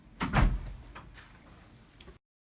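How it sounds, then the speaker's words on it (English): An office door swings shut with a solid thud followed by a brief rattle of the latch, fairly close and loud, then quiet room tone fading out. "I'm gonna shut the door."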